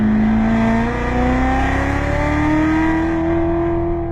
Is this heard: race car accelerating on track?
yes